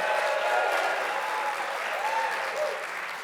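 An awards show audience claps and cheers for Grand Theft Auto on an applause meter, a dense steady wash of clapping with a few whoops that eases slightly toward the end.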